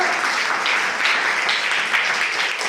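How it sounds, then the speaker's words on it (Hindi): Children clap together at a school learning fair, a steady, dense burst of applause that stays fairly loud throughout. "सही बोला, ताली बजाओ इसके लिए।"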